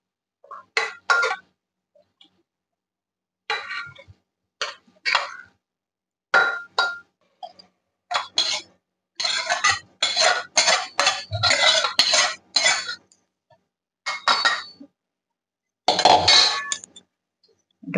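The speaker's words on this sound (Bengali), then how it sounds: "কুকারটা বসিয়ে দিচ্ছি, কুকারের মধ্যেই সবগুলো ঢেলে দেবো" Fried vegetables and dalia go into a pressure cooker with a series of short metallic clinks and scrapes of a ladle against the pot, coming in uneven bursts separated by brief pauses.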